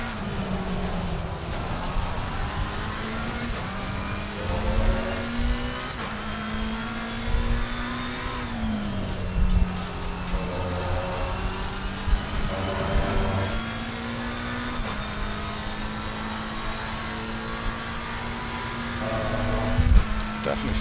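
A McLaren GT race car's engine drones steadily in Assetto Corsa Competizione, its pitch rising and dropping through gear changes during a lap while someone talks over it.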